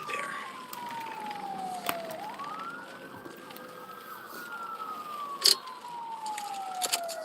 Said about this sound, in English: What's up with the sirens?